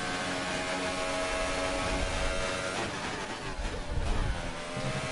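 Formula 1 car engine at the Canadian Grand Prix in F1 2018, droning steadily at high revs with small pitch shifts as it works through a chicane, loud and continuous with no talking.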